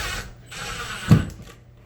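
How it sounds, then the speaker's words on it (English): A short mechanical whir of a drill slowly driving a screw while mounting a TV, ending in a brief louder clunk before it stops. "Take a drill"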